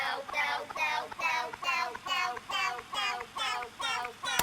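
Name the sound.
pitched-up break beat without processing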